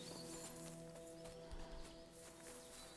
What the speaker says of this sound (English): A beautiful horse. Black as charcoal.